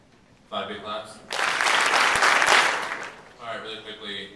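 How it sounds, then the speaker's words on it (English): A student audience at a school candidate-speech event bursts into a short round of loud clapping lasting about two seconds, with voices talking just before and after it. "Five big claps."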